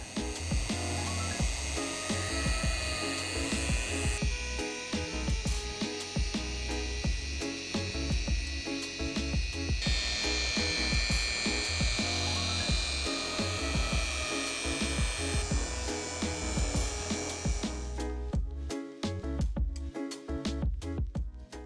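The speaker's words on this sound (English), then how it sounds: "then we're gonna buff the panel" A machine polisher buffs a freshly painted car panel with compound on its pad, giving a loud, continuous whirring drone that shifts in pitch and texture as pressure changes, then breaks into choppy bursts near the end.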